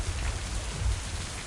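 Steady rain falls in the video game Mind: Path to Thalamus, a dense, even hiss of drops with a low rumbling undertone, heard alone and fairly soft.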